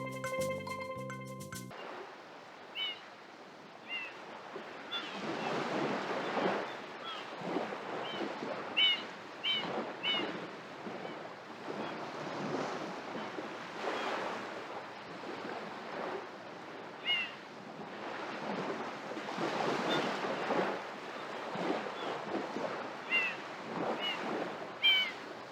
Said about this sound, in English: the sound of the ocean waves hitting the ocean shore